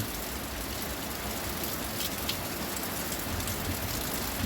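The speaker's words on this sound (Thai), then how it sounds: "ฝนตกแล้วเด้อพี่น้องเด้อน้ำไหลโจกๆแล้วครับ" Steady rain pours down, a dense even hiss of drops hitting surfaces, continuous and fairly loud throughout.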